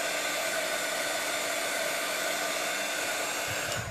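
Hair dryer blowing steadily up close to dry paint on a biscuit lace-textured gift box, a loud constant whooshing hum that cuts off at the end, with no talk.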